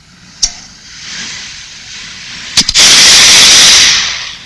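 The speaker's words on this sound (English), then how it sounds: "That's the first round of gunshots." A single sharp crack, then after a pause two quick bangs in succession, followed by a loud sustained hiss of noise.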